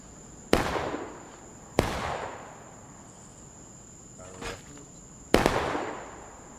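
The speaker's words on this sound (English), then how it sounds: "Hey, Pyro, let me know when you're about to fire" Artillery cannon fire in a Civil War battle game, three loud, sharp booms spaced a few seconds apart, each trailing into a rumbling decay, over a steady ambient hum with a faint crackle between shots.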